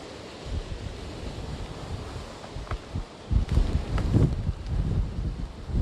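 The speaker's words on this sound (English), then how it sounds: "the wind's really starting to pick up now" Hurricane Laura's landfall winds near Lake Charles, Louisiana: a steady roar of gusting wind buffeting the microphone, swelling into stronger bursts in the second half, with no voices.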